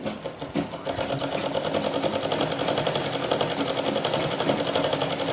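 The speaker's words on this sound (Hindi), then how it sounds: "बिल्कुल किनारे पे सिलाई लगा लूँगी।" A sewing machine runs steadily while stitching blouse fabric, a close, loud rapid mechanical whirring and clatter that starts after a brief pause and keeps going evenly.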